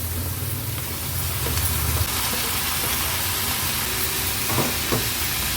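Cooked tender bamboo shoots hit hot oil and sizzle loudly, a dense steady hiss up close, with a low rumble early on and a few sharp clinks near the end.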